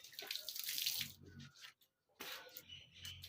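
Water poured and splashing while feet are washed, a close, faint running splash that stops for a moment in the middle and then starts again, with no voices.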